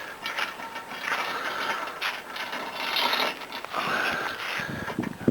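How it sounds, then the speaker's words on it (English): Ratcheting clicks and metallic scraping while a nut is tightened on a tilting solar array mount with poles, a steady mechanical chatter at moderate level with a few sharper knocks near the end. "you tighten that nut"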